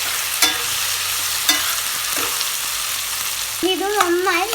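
Boiled tapioca being stirred and fried in a pan: a steady broadband sizzle with a few sharp scraping strokes, and a wavering tonal squeak near the end, fairly close and without speech.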